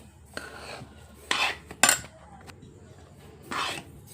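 Semolina roasting in a pan on a low flame, with a spoon scraping and clinking against the metal in several short, sharp bursts between quieter stretches.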